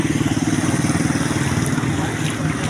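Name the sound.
motorized tricycle engine passing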